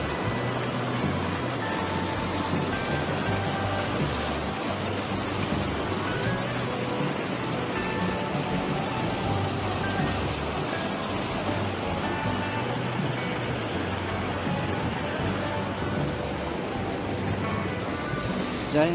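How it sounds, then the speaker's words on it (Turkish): The Ak-Suu river rushes along at a resort in Kyrgyzstan, a steady, even wash of flowing water heard alone at moderate distance without pause. "Aksu Nehri çağlayarak akıyor."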